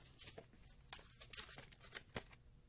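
Tarot cards shuffled in the hands during a reading, a run of soft, quick papery riffles and flutters that come in several short bursts, close and fairly quiet, with no voice over them.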